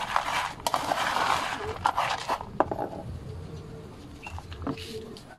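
Pigeons coo softly among a flock of racing pigeons, mixed with rustling and scattered clatter nearby; a voice talks faintly in the background.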